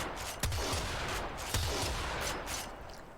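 The Corinth gun firing in the Warframe video game, two loud booming blasts with a sharp crack and rumbling tail, set against dense continuous game noise.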